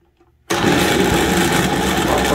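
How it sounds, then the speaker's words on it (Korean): A blender grinding ingredients with a homemade sauce whirs to life abruptly and keeps grinding at a loud, steady roar with a dense buzzing texture. "믹스기를 켭니다."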